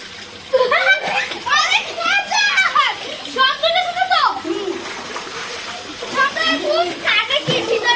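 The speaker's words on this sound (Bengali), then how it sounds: "দেখো সাঁতার শুরু করলো" Children splash about in a swimming pool, water sloshing and spattering under near-constant excited kid chatter and shouts close by.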